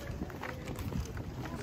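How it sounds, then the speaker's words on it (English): Wind gusting outdoors on a cold winter day on a college campus, buffeting the microphone in uneven rumbling bursts with faint street ambience. "it's really windy."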